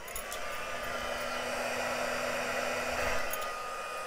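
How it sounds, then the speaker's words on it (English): A heat gun or dryer blows steadily on vellum paper at a craft table, a loud continuous broadband whoosh with a faint tonal hum lasting the whole few seconds, no talking. "let me just get my dryer again and straighten that out."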